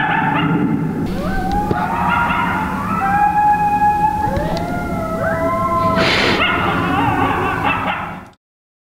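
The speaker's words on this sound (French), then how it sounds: "On sait pas si c'est des chiens ou des coyotes qui se sont mis à crier." Several dogs or coyotes howl and yip together at the Grand Canyon in a long, wavering chorus, fairly close, with rising and falling cries overlapping throughout before stopping abruptly.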